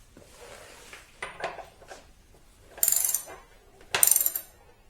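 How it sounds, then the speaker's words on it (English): Front wheel axle nut being tightened by hand on a Ducati Multistrada 1260S, heard as a few close metallic clicks and ratcheting taps with short pauses between them and no talking. "The shaft is in position, apply the nut. And tighten it, but not for torque."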